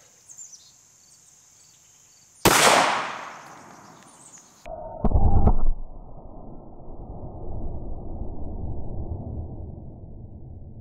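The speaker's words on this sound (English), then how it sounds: "So we're gonna shoot the exact same bullet, the 124 grain plus P HST out of the Glock 17." A Glock 17 pistol firing a 9mm 124 grain +P HST round into a ballistics gel block outdoors, a single sharp loud shot with a ringing decay, followed by metallic clatter and steady insect chirping in the background.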